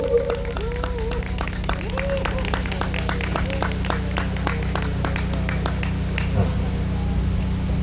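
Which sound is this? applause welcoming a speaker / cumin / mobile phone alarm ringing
applause welcoming a speaker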